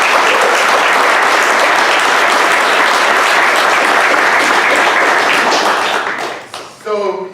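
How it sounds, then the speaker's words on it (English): Audience at a spring festival applauds loudly and steadily, a dense wash of clapping from a close crowd that fades out near the end as a voice begins speaking. "Just give him a round of applause."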